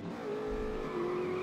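Race car accelerating in The Saboteur, its engine a steady droning hum that climbs slightly in pitch, moderately loud with no talk over it.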